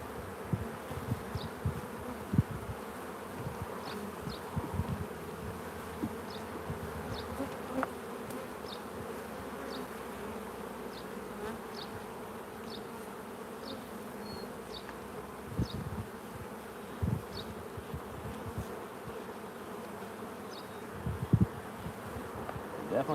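Agitated honey bees swarm around an opened hive during an inspection, their dense buzzing drone steady and close, with individual bees zipping past and occasional handling knocks.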